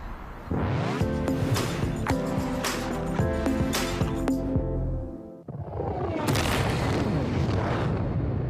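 A heavy, rumbling explosion roars and rolls on for several seconds, cuts out briefly, then a second loud burst of blast noise follows.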